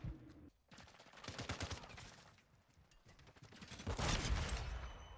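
Gunfire from a Lockwood Mk2 rifle in the shooter game Modern Warfare 2 cracks in several bursts of shots over a low in-game background, moderately loud and without speech.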